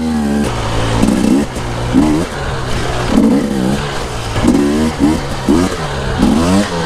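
An enduro dirt bike on a downhill circuit, its engine revving loudly and close in repeated bursts, surging and easing in an uneven rhythm with rattling clatter throughout.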